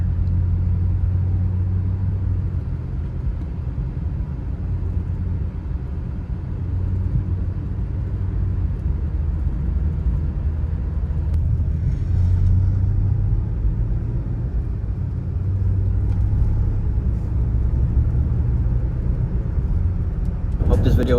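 A BMW e90 328i drives at steady RPM, its engine and transmission giving a continuous low rumbling drone from inside the car, fairly loud and even throughout with little change in pitch.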